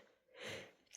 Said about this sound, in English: I do not really cut off this kind of sneezes